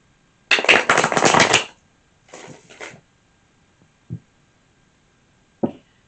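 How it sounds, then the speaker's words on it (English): Tarot cards being shuffled: a long riffle burst, then a shorter one, followed by a couple of soft taps as the deck is squared, with no talking. "Two more shuffles."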